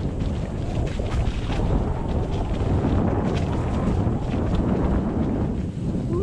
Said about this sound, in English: So much wind this morning.